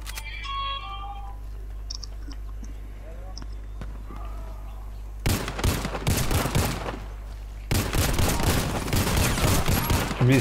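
Video game gunfire erupts after a quieter stretch with a steady hum and scattered chimes, first as a burst of rapid shots and then as a second, sustained volley, loud and close.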